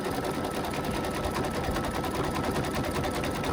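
An embroidery machine stitches at a fast, even clatter, a dense mechanical rattle that runs loud and unbroken from start to finish, close by with no talk.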